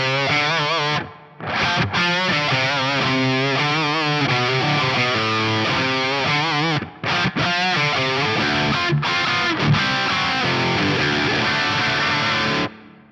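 Distorted electric guitar chords and melodic lines through an Axe-Fx III with London Plate reverb at a 15% mix and 2-second decay, played loud with brief gaps where the reverb tail rings out.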